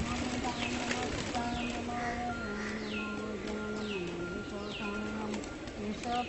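Pigeons coo repeatedly around a temple, soft rounded calls rising and falling over a steady murmur of other birds chirping and a dense, busy outdoor background.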